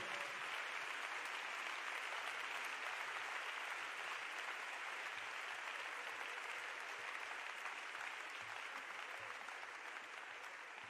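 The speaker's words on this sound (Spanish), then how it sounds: "Recibimos la palabra de Dios con un fuerte aplauso" A church congregation keeps up loud, sustained applause for nearly eleven seconds, a dense, even roar of many hands clapping with no break.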